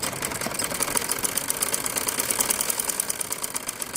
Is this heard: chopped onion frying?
no